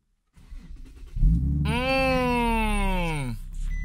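A Nissan 370Z with a power steering lock fault starts at close range: the engine catches with a rising rev flare that holds briefly, then drops and settles toward idle.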